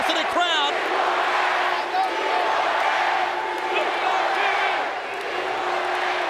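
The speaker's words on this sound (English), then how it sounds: "the chant of We Want Nash goes up here at this capacity crowd" A capacity wrestling crowd at the Great American Bash 1998 chants "We Want Nash", a loud, dense roar of massed voices sustained throughout with whoops rising above it, an announcer's voice faintly in the mix.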